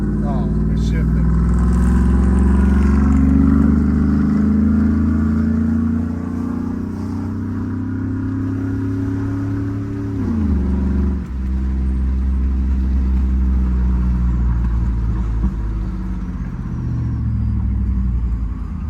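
A Chevy 5.3 V8 with a Borla XR1 exhaust rumbles loud and steady, revving up before the pitch sweeps down at a gear shift and the deep drone settles back in.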